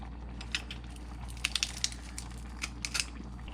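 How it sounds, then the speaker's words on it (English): Garlic cloves squeezed through a garlic press, a few sharp crunching squishes and clicks in small clusters over a quiet low hum. "So I'm doing about 3 cloves of garlic in here. Do a couple presses of this real fast."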